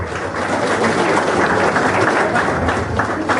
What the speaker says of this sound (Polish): Będą brawa? Będą brawa.